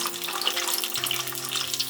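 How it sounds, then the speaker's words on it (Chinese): Salmon belly fries in plenty of its own fat in a flat pan, giving a constant crackling sizzle with small spattering pops beneath steady background music. "在煎鲑鱼肚时会有非常多的油，过程中会油爆"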